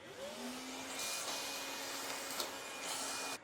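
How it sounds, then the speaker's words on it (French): A vacuum cleaner runs steadily and close by on a window-glazing job site, doing a final cleanup before double glazing is fitted; a constant whining drone with a faint tonal hum, holding even throughout. "Et maintenant, on passe un dernier coup d'aspirateur."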